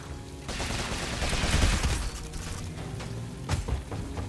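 Rapid gunfire from the gunslinger's gun in Rogue Legacy 2, a dense burst of quick shots over game sounds, swelling mid-way and then firing again in a short sharp flurry.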